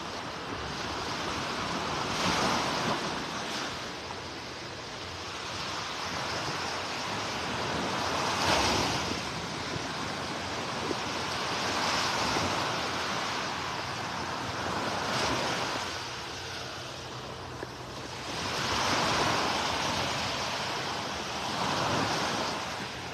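Ocean surf rolls onto a beach in North Naples, Florida during red tide, a steady broadband wash swelling into louder breaking waves every few seconds, with light wind noise on the microphone and no voices.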